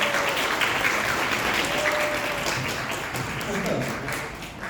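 A press-event audience applauds in a dense, continuous wash of clapping that holds steady throughout and tapers slightly near the end, with faint voices underneath.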